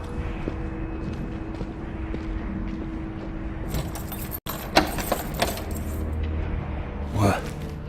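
In the Dishonored 2 video game, keys jangle in a short metallic rattle over a steady ambient bed, with a few brief clinks and some talk.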